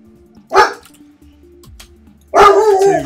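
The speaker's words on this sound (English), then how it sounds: "sorry about dog barking" A dog gives two sharp, loud barks about two seconds apart, close by, with a faint low hum and soft clicks in the quiet gap between them.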